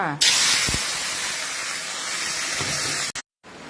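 Water mimosa with crushed garlic and fresh chili hits a hot wok with a sudden loud sizzle that settles into a steady, bright frying hiss, broken by a couple of faint utensil clinks and a brief cut near the end.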